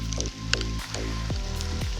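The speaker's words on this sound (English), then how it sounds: "Nice to see a little bit of rain" Light rain drips and patters after a spell of hot weather, a scattering of soft close drops landing irregularly with a few sharper plinks over a steady wet background.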